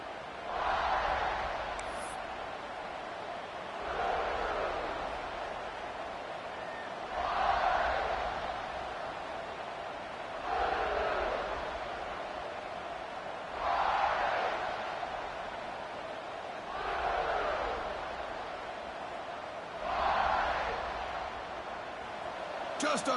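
A stadium crowd in a college football video game cheers in repeated swelling waves every few seconds, a roaring wash rising and falling under faint commentary.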